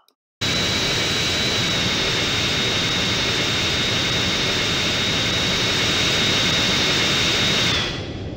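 A full-scale jetliner engine in GTA San Andreas roars at Las Venturas Airport. A steady, loud broadband rumble with a thin high whine kicks in abruptly after a brief silence and holds for about seven seconds before easing slightly.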